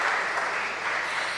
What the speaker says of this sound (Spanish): Un fuerte aplauso para él, que lo reciba donde se encuentre